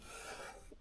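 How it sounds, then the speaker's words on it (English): Hand sanding on the body of a 1976 BMW 2002 being prepared for repaint, heard as a close, steady abrasive rasp that fills the whole brief moment and ends with a softer rub. "I was sanding here a minute ago, but I'll just keep on sanding."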